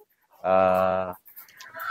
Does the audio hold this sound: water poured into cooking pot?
no